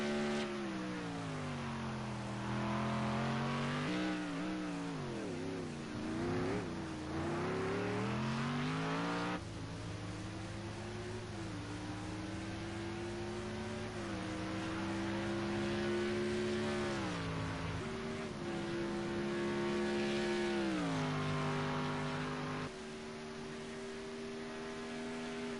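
Race cars out on the Long Beach street circuit during qualifying, with several engines droning and shifting pitch together as they rise and fall through the gears. The sound is steady and moderately distant, with faint tire noise at times.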